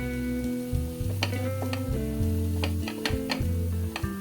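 Masala fries in a hot pan, sizzling steadily while a spoon scrapes and stirs through it in repeated clicks, over soft background music.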